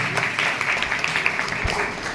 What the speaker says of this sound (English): Big clap for her.